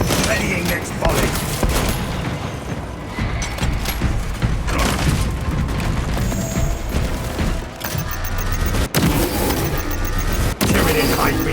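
Booming artillery volleys and heavy gunfire from the Warhammer 40k Space Marine 2 video game, dense and loud throughout with repeated thuds and explosions, while in-game voices talk over the battle.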